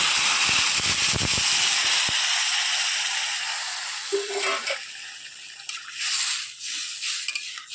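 Loud sizzling that abruptly calms as water hits sautéed spice paste in a hot pan, followed by quieter bubbling and occasional scrapes of stirring.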